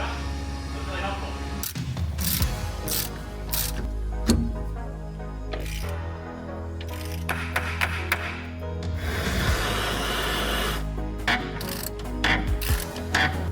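A wrench works a rusty threaded nut loose in a shop, with repeated ratcheting and metal clicks spread across the clip, mixed with background hum and some talking.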